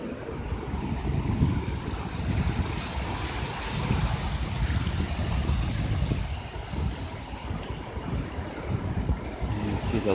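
Ocean waves wash onto a beach in a continuous rumbling surf, mixed with gusty wind buffeting the microphone on a morning walk along the shore.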